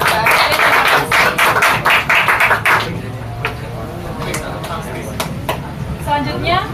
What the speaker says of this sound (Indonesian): Tepuk tangan atas pertanyaannya.